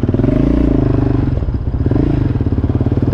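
A quad bike engine runs close and loud with its exhaust, a throbbing, pulsing idle that swells into revs, with some clattering mechanical noise on a lakeside trail ride.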